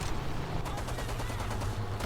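Rapid automatic aircraft cannon fire from an XP-50 in a video game rattles in a dense, continuous burst over a low engine drone.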